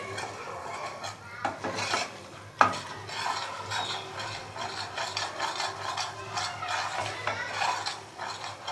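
A spoon stirs and scrapes gram flour (besan) as it roasts in a pan for barfi, giving a continuous soft scraping with a low sizzle and one sharp clink of metal on the pan.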